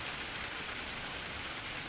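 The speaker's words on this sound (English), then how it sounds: "It's raining like a motherfucker today in Bakersfield." Heavy rain in Bakersfield, California, pours in a dense, constant hiss of drops striking hard surfaces, loud and unbroken, with no voices and no thunder.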